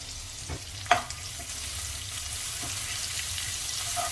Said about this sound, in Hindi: इसमें हम लहसुन डाल देंगे और हरी मिर्च का जो हमने पेस्ट कूट कर तैयार किया है उसे डाल देंगे और इसे 1 मिनट के लिए भून लेंगे घी में